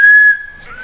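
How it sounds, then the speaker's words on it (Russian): Whistle blown once, a loud, clear steady tone that fades and wavers into a softer trailing note, close up and alone. "О, нормальный свисток."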